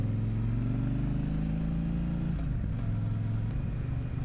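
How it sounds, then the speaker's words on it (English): A 2022 Triumph Speedmaster Goldline Edition cruiser on the overrun, its exhaust pipes giving a deep, steady burbling rumble close by that dips and shifts pitch midway through as the revs fall, with no voices. "A lovely sound from those pipes on the overrun"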